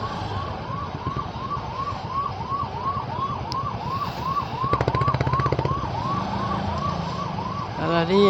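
An ambulance siren wails in a rapid repeating whoop, close and clear, while the ambulance sits stuck in a traffic jam on National Highway 16, with engine rumble and a brief rattle beneath it.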